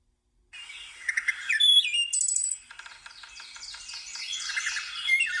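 Birds chirp and twitter in quick, high-pitched bursts, several calls overlapping in a busy, fluttering chorus that stays fairly loud throughout.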